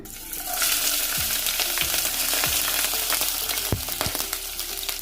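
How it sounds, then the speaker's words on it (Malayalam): Finely chopped large onion sautés in hot coconut oil with curry leaves for a bitter gourd thoran, a loud, steady sizzle broken by several sharp stirring scrapes and clanks, with no voices. "ഇതിലേക്ക് ഒരു വലിയ സവാള ചെറുതായി അരിഞ്ഞ് ചേർത്ത് കൊടുക്കുന്നുണ്ട്"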